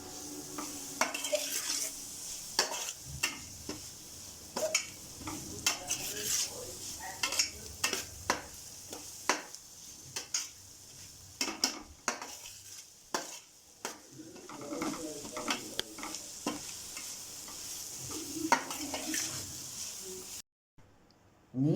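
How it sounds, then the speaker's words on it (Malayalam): Masala for cutlets being stir-fried in a pan: repeated sharp scrapes and taps of a spoon against the metal over a low, faint sizzle, close-up and intermittent, ending in a brief silence. "എല്ലാം കൂടി അങ്ങോട്ട് നല്ലോണം മൊരിയിക്കുക."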